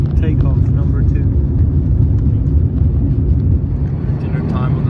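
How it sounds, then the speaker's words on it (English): A Qatar Airways airliner taking off heard from inside the cabin: a loud, steady engine roar that fills the whole stretch, with faint voices underneath. "Takeoff number 2."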